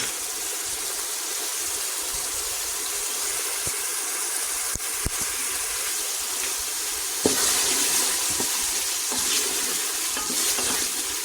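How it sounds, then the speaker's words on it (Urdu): Chicken curry masala fries in oil in a pan, giving a continuous loud sizzle with occasional clinks and scrapes of stirring. Nobody speaks. "کمپلیٹ آئل نکلنے تک ہم اس کو تھوڑا سا فرائی کریں گے"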